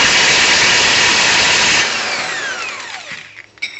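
A Kobalt impact wrench rated at 220 foot-pounds hammers loudly at the tie rod end on a 1995-2003 Nissan Maxima, then releases and spins down with a falling whine.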